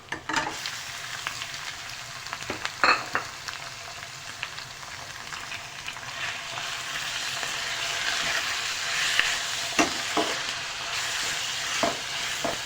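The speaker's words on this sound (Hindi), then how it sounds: "पहले हम इसे बहुत अच्छी तरह जो है ऑयल के साथ फ्राई करेंगे" Hand-minced keema frying in oil, a dense crackling sizzle throughout with occasional sharp scrapes of a spoon stirring the meat.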